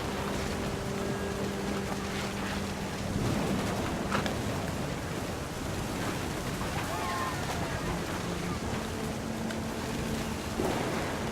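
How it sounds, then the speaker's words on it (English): Steady rain pours during a thunderstorm in the video game What Remains of Edith Finch, a constant dense hiss with soft low rumbles of thunder underneath, continuous throughout with faint tonal music in the background. "The thunder sounded much too close and full of angry power."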